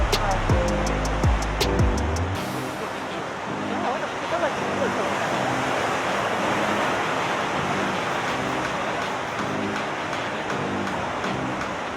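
Sea waves break on rocks along the Jukbyeon coast of Uljin on the East Sea, a steady close rushing roar of surf, with a few brief mechanical tones at the start.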